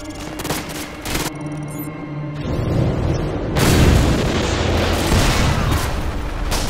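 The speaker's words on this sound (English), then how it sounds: "Those explosions will attract a lot of attention." Heavy gunfire and a string of booming explosions in Modern Warfare 2 roll together into a loud, continuous rumble of combat, close and sustained throughout.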